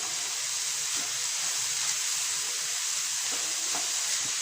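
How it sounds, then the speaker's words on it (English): Vegetables and sausage with salt and pepper sizzle in a pan, a steady dense hiss of frying throughout, with faint soft scrapes of stirring now and then. "Now I'm adding the balanced salt and the pepper and stir it before putting the spaghetti."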